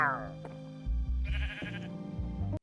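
Sheep bleat in the video game All the Mods 9: several wavering, close bleats follow one another over a steady low game tone.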